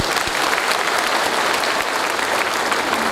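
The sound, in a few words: loud applause for the Ranchi trainers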